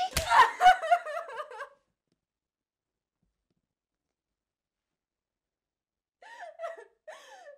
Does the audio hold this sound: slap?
yes